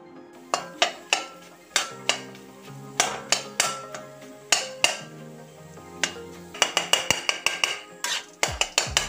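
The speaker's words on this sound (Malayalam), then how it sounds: "എന്നിട്ട് ഇതുപോലെ വീണ്ടും മിക്സ് ചെയ്തെടുക്കുക" Kappa biriyani, tapioca cooked with egg, being mixed with coconut oil in a pan: a steady run of crisp spoon-on-pan clinks and scrapes, growing quicker near the end over a faint tonal background.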